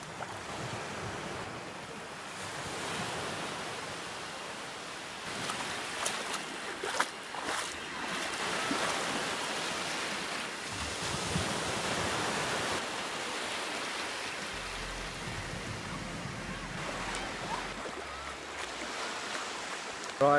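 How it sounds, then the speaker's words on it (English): Sea waves rolling onto a beach on the last day of the summer holidays as the tide comes in fast, a continuous broad wash of surf with rising and falling swells and wind rumble on the microphone. "Wave after wave just lolling in now."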